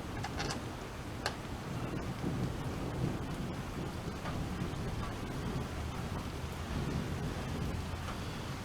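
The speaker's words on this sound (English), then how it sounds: "Probably crazy doing this in a lightning storm." Steady rain keeps falling through a Tennessee thunderstorm, with low rumbling thunder beneath it and a few sharp crackles near the start, a constant wash with no voices.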